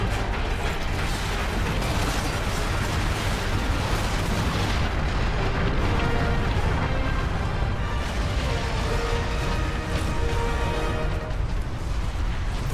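Rumbling blast and mechanical clatter from a detonating charge in Warhammer 40,000: Space Marine, a loud, sustained roar with creaking, ratcheting debris layered throughout.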